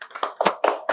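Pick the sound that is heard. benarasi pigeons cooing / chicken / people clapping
people clapping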